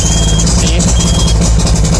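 A vehicle engine, on either a boat or a truck, runs at idle with a loud, constant rumble close by and no break in the sound.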